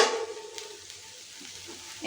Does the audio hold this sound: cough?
no